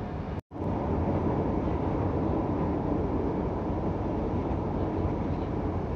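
KRL Jogja–Solo electric commuter train running at about 80 km per hour, heard from inside the carriage as a steady, loud, broadband rumble with one very brief dropout near the start.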